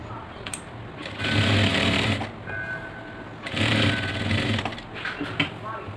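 A sewing machine runs on a churidar in two loud, steady stitching bursts with a brief pause between, followed by lighter clicks and handling noises.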